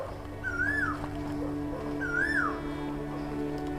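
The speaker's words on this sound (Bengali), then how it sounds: "কি সুন্দর কোকিলের আওয়াজ দেখো বন্ধুরা" An Asian koel calls in a palash forest in spring, two clear rising whistled notes about two seconds apart, fairly near, over a steady hum of background noise.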